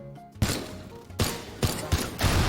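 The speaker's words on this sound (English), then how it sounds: "What if I shoot an oven?" In the Teardown video game, gunfire hits an oven and sets off an explosion, producing a series of loud, sharp blasts and booms in quick succession, each followed by a rumbling tail.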